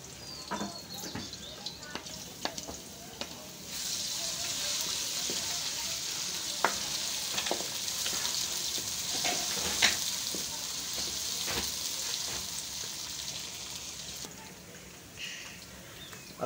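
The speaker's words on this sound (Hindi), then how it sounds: "अदरक लहसुन हो गया फ्राई।" Ginger and garlic frying with onions in a pan: a steady soft sizzle runs throughout, with scattered scrapes and clinks of stirring and occasional faint background noise.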